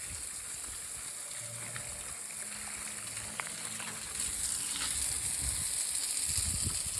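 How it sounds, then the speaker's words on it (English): Water pouring into a small concrete plunge pool on a hot day in central Portugal: a steady hissing rush, moderately close, growing a little louder partway through. "put some water in, make sure the drain part works"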